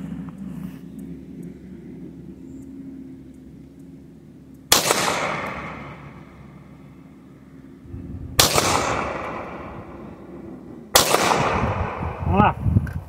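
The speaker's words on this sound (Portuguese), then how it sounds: "Tá aqui, 3 disparos." Three sharp, loud shots from a Springfield Prodigy pistol ring out several seconds apart at a range, each with a short echoing decay, over a low steady background hum.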